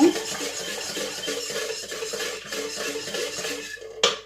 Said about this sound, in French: vous mélangez bien au fouet pour bien incorporer